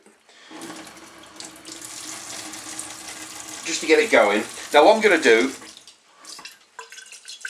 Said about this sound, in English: I'm going to put a little bit of water in here, swish it around.